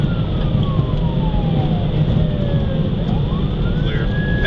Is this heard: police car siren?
yes